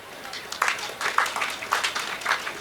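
An audience at a Nabumali High School celebration claps together in a steady rhythmic beat, about four or five claps in a row, fairly close and loud.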